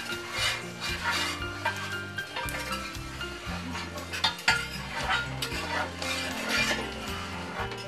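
A long ladle scrapes and knocks repeatedly against a metal pot while boiling coconut milk is stirred to make virgin coconut oil, a steady rhythmic rubbing with occasional louder clinks.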